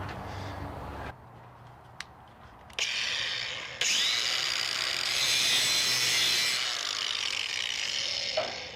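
Cutting metal pieces for a camper trailer flatbed conversion, a harsh grinding hiss that starts, stops and resumes in bursts over a steady background hum, fairly close and loud.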